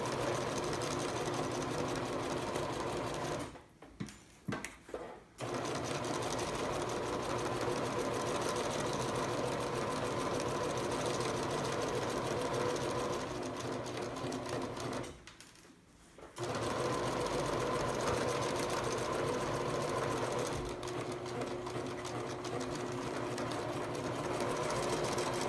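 Close, steady whirring of a sewing machine back stitching two fabric layers for a photo pillow, running continuously with two brief stops, the second stop a little longer.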